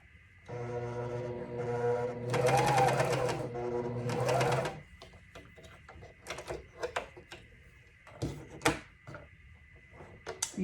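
A Juki MCS1500 coverstitch machine runs in two steady, loud stitching bursts of about two seconds each, followed by quieter fabric handling clicks and taps, with no speech over it.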